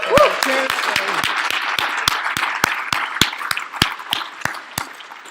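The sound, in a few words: audience applause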